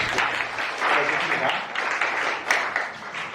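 Audience applause at a church youth lecture on dating and marriage, a steady wash of many hands clapping from a room of listeners, with voices murmuring underneath.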